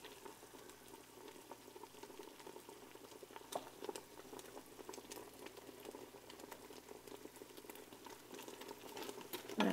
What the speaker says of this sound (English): So we're going to boil this for about a minute.